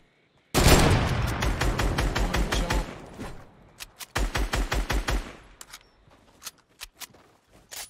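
Gunfire in a shooting video game: rapid, loud automatic bursts in a steady rhythm, a pause, then another burst, followed by scattered single shots that fade out.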